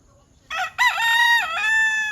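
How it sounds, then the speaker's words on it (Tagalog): A farm rooster in Lucban, Quezon crows loudly and close by, one long harmonic call broken by a brief gap and then held steady, with no talk over it. "Aba, nakahapon na yung isang tandang, oh."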